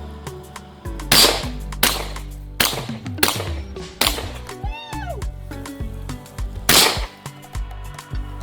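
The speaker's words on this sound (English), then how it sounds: "Shotgun time!" A shotgun fires in a run of sharp, loud blasts at uneven intervals, some close together and one ringing metallic ping between them, with a shooter's voice briefly heard.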